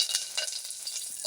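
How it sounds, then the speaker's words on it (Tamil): Curry leaves, cloves and cinnamon fry in hot oil for a drumstick masala, a soft close crackle and spatter with small popping bursts over a low continuous hiss. "எண்ணெய் கொதிச்சிருச்சு, அதில் கிராம்பு, பட்டை சிறிது போடுவோம்."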